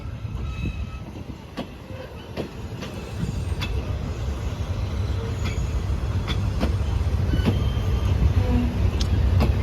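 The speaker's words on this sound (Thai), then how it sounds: "ไหลเข้าไปแล้วครับไหลเข้าไปแล้ว ลงเทียบชานชาลาทางที่ 3 นะครับ" A classic Thai railway train with third-class cars rolls into a station platform with steady rumbling and periodic clicks of wheels over rail joints, growing slightly louder as it draws near.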